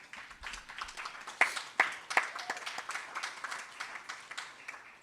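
Scattered, fairly faint applause from attendees at a school board meeting, with a few sharper individual claps early on before the clapping thins out.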